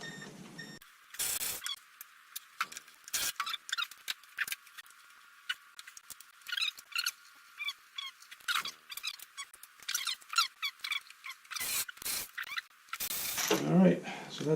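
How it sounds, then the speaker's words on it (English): A ratcheting open-end wrench works hex bolts on the front fork brace of a 1987 Concours motorcycle, making quick, light clicking bursts close up with pauses between them. "I'll get a ratcheting open end on that."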